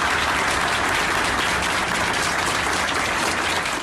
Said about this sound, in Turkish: Ameliyatı tamamlanan uzman çavuş hastaneden sağlıkçıların alkışlı protestosuyla uğurlandı.